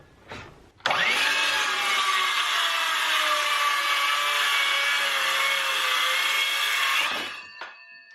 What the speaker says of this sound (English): I just want to rip that down with my saw